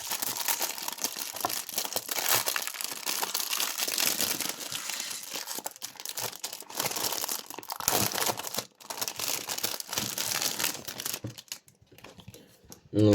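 Plastic packaging on a Pokémon magazine crinkles and tears as it is opened, with continuous close rustling and crumpling and a few sharper rips, and no talking.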